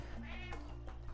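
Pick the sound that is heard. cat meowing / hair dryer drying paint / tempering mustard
cat meowing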